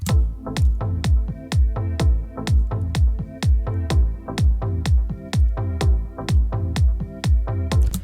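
Sidechained synth pad over a thumping regular kick and bass, now joined by short bright synth stabs on top, a dense looping dance groove played loud with nobody talking.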